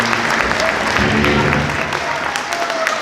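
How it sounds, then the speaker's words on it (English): An audience at a wind ensemble winter concert applauds, a dense, loud, steady clatter of clapping that fills the whole moment. "give yourselves a round of applause."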